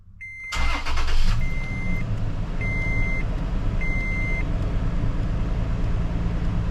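A 2010 Toyota Tacoma engine cranks and catches right after an alternator replacement, then settles into a steady idle while a high chime beeps repeatedly over the running engine.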